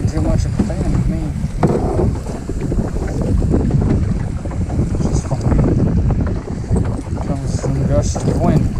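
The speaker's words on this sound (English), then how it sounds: "Gust of wind again." Strong wind gusts buffet the microphone while kayaking on Waterloo Lake, a loud steady roar with surging low rumble and faint water movement throughout.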